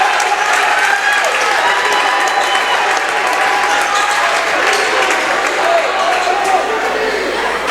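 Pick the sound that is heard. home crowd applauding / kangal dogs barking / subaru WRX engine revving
home crowd applauding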